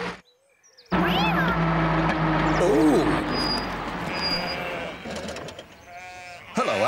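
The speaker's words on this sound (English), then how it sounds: "I'm just putting these sheep back where they belong." Cartoon sheep bleat in short wavering calls over a farm field scene near a road, loud and close, with a voice shooing them along and talking throughout.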